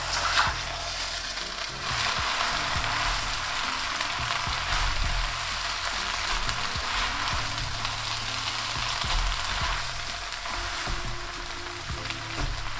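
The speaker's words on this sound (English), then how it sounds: "Now you want to slowly give this a mix and glaze those noodles." Chow mein noodles are stir-fried in soy sauce, oyster sauce, sugar and sesame oil, giving a loud, continuous sizzle with soft tossing and stirring scrapes underneath, close up.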